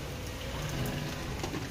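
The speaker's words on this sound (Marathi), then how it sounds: "कंटिन्यू पाऊस चालू आहे, काय करावं ह्या पावसानं।" Steady rain falls outside during the monsoon, a continuous even hiss of drops striking surfaces, moderately close with no talk over it.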